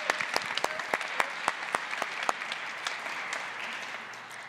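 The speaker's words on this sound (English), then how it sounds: "Please give them a round of applause." A conference audience at an annual meeting claps for a co-convener: sharp, distinct claps from a smallish crowd at moderate distance, tapering off toward the end.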